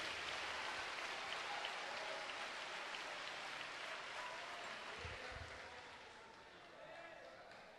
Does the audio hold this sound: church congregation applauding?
yes